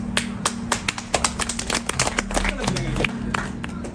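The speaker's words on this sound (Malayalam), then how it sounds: "എന്തിനാ കൈയടിച്ചത്?" An audience claps in a burst of sharp, irregular hand claps that fade into scattered pats, with a voice talking underneath.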